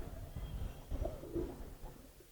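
Pigeons in a Khilgaon loft give soft, low cooing in short murmured phrases against quiet background noise, ending with a sudden close thump.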